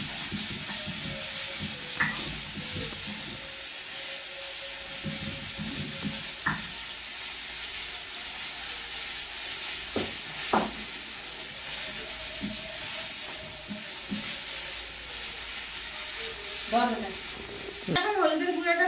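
Vegetables frying in a pan in a village kitchen, a steady sizzling hiss with occasional stirring knocks and clinks, close and continuous for the whole stretch, with some sounds near the end.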